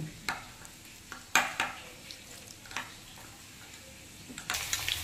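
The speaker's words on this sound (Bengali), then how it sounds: "জলটা দিয়ে, যেহেতু এটা গুঁড়ো মশলা, ভালো করে একটু গুলে নেব" Ground spices stirred into water in a bowl with a spoon, giving scattered scraping clinks and taps at an irregular pace, fairly quiet with no voice.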